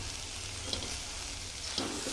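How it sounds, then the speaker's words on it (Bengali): Vegetable curry with eggplant sizzles steadily in a pan while a spoon stirs it, with two soft scraping strokes standing out over the continuous frying hiss; no talking. "দেখুন ভালো করে আমি নেড়ে দিলাম, ভালো করে আমি খুব ভালো করে নাড়লাম"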